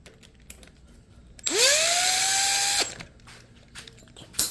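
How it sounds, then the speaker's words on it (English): An impact wrench runs cylinder head studs into a turbo big-block Mopar engine for a Plymouth Duster, firing one loud, close burst of over a second with a rising whine, set between quiet shop sounds. "we're just going to run them on in with the impact"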